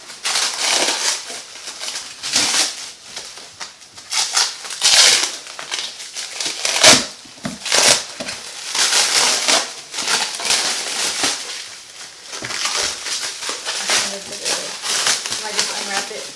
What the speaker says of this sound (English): I just unwrapped it. I kind of just opened it.